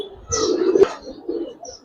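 Giribaz and colored pigeons coo nearby in a soft, short, low burst, with a second brief murmur after a pause.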